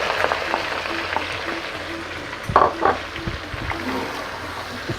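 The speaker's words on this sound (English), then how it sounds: "I stir lamb in the oil we extracted from the fats." Lamb pieces fry in oil rendered from the fat inside a karahi, giving a close, steady sizzle with bursts of stirring clatter and bubbling near the middle.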